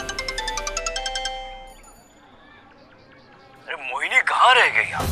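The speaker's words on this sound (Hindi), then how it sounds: "दीदी, दुर्जन का फोन।" A phone rings with a repeating electronic tone for about a second, then it goes quiet before a voice starts talking.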